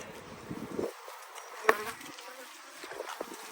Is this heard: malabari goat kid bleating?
no